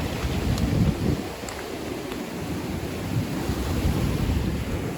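Rough, roaring Black Sea surf at Kurortnoye, Crimea, heard from a groyne, with steady broadband wash and gusty wind noise, stormy waves surging continuously nearby without any talking.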